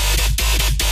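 Serum synth bass preset played dry without its filter, a loud, buzzy, full-range tone pulsing in four quick rhythmic hits within a second, with no voices.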